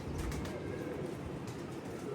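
Soft, low pigeon cooing from a breeder's birds murmurs continuously at moderate distance, blending into a steady low hum with no clear pauses.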